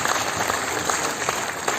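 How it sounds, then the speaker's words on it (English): An audience at a lecture on the Internet of Things in construction applauds, dense steady clapping filling the room for a couple of seconds. "Ladies and gentlemen, please put your hands together to applaud Dr."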